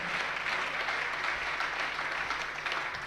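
An audience at a Jain religious discourse claps in steady, continuous applause, a dense even patter that holds from start to finish without talk.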